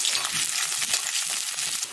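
Chopped onion sizzles steadily and close in hot oil tempered with fenugreek seeds, a dense continuous frying hiss with faint stirring, for an Indian poi greens curry.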